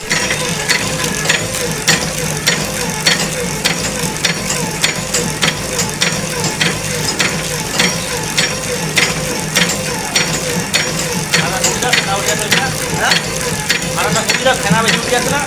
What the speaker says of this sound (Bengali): ব্যান্ডেল কর্মকার মেশিনে বাতাসা হচ্ছে, গুড়ের বাতাসা।